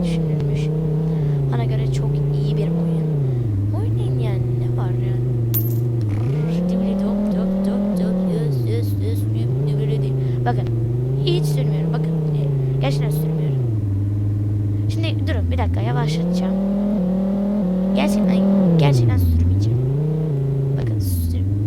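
Simulated car engine from the Recep Ivedik video game, a steady droning hum that rises and falls in pitch as it accelerates and eases off, with occasional clicks and bursts of noise on top.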